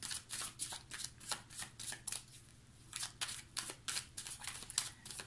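A tarot deck is shuffled by hand up close, in a quick rhythmic series of papery riffles and slaps with short pauses between.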